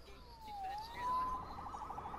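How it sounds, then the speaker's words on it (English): A police siren wails in the Spider-Man video game, one clear rising and falling tone sweeping for a couple of seconds and then holding steady over a low game background hum. "Saved by the siren."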